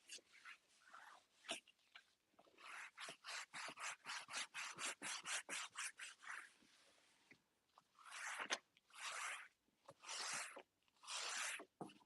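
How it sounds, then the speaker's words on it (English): Hand-buffing wax into freshly painted wooden furniture with a cloth, producing a steady series of rhythmic rasping rub strokes, close and fairly loud, with short pauses and then a few longer sweeps. "we're buffing that wax into our paint"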